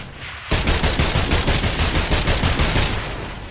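Sustained automatic gunfire erupts in the video game Agents of Mayhem, a loud, dense burst of rapid shots lasting nearly three seconds after a short quiet start.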